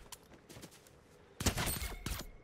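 Suppressed pistol fire in a video game: a few soft thumps early, then a louder burst of several rapid shots at mid-range with a final shot shortly after.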